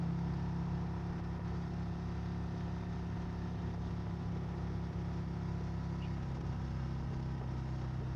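Harley-Davidson CVO Road Glide RR motorcycle with stock Apocalypse exhaust, ridden high-revving in second gear: a steady, loud engine drone with strong low rumble, continuous throughout with no speech.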